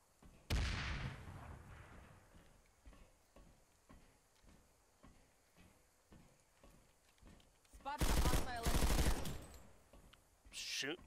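Gunfire in PlanetSide 2: a series of sharp, regular shots ticking at a steady pace, broken by a few loud, heavy bursts, while a person talks over the action.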